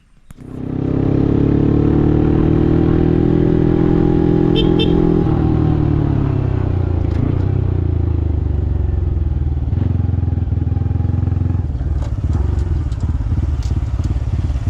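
A Honda CT125 motorcycle set up for Thai enduro riding heads off-road, its single-cylinder engine droning loud and close as it revs up and settles into a steady run, with rattling clatter over rough ground and no talk.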